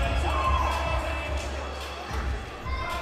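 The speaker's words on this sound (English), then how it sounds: "The crowd here in Plaquemine just going crazy for Mustang Mike" A wrestling crowd in Plaquemine roars for a popular wrestler at a Halloween-season show, with sustained cheering and shouting and occasional thuds underneath.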